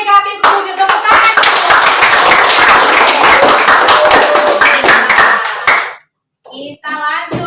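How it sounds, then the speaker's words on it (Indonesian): A classroom of students claps hands together in a loud, dense burst of applause lasting several seconds, then it stops and voices follow. "Tepuk tangan."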